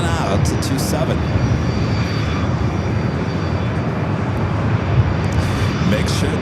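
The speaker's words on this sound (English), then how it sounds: "that was Thrive heading to Vegas. Cessna Citation CJ3+." A Cessna Citation CJ3+ business jet roars steadily and loudly while taking off at San Diego airport, a dense continuous engine rush filling the whole span with a few brief higher clicks.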